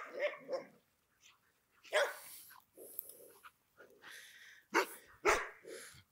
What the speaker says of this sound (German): du sollst nicht bellen, bitte